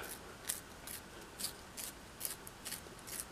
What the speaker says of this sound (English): I'm actually going to sharpen one of these pencils